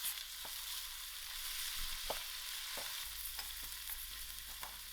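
Ginger and garlic fry in a hot pan for a cauliflower and butter bean dish, giving a steady, close hiss of sizzling oil broken by a few soft stirring clicks, with no talking.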